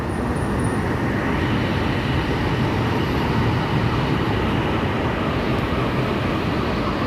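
An MRT3 metro train in Manila makes a loud, continuous rumbling roar that holds steady from start to finish.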